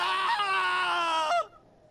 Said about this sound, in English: What kind of scream is that?